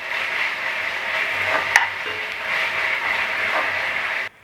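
Ginger garlic paste sautés in a pan on low heat for a soya biryani, with a steady close hiss of sizzling and an occasional light stir clink throughout.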